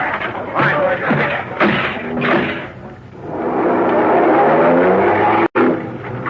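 A car speeds off in an old-time radio detective drama, its engine roaring and rising in a long sustained sweep after brief shouted voices, with a sharp cut near the end.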